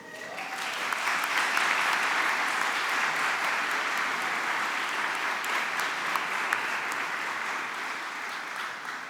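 Sustained applause from a large audience at a medical faculty graduation ceremony, rising quickly and holding steady as a dense, even patter of many hands before easing slightly at the end.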